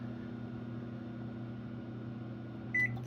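Microwave oven humming steadily with a low electrical drone throughout, then a single short beep near the end, close and fairly quiet.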